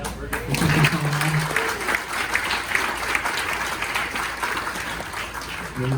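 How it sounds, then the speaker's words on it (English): A roomful of people applauds restaurant staff at a Yacht Club chamber dinner, sustained dense clapping throughout, with a voice speaking briefly at the start and again at the end. "I want to have a round of applause for the staff at the Yacht Club."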